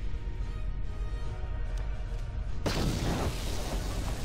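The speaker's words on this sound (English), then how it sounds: "Sith soldier. I'm gonna frag him." A frag grenade goes off in Star Wars: Knights of the Old Republic, a sudden loud boom breaking through low game background rumble and lingering as a dense noisy burst.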